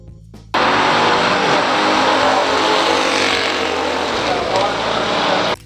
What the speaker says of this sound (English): Number 12. 1971 Chevrolet Camaro Z28.